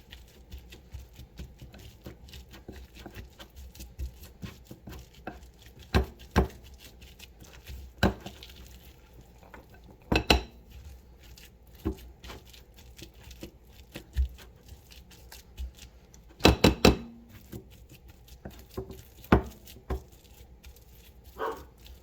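Black beans mashed by hand for hummus, heard as scattered soft thuds and squishy taps at an irregular pace, some louder presses standing out against a quiet background.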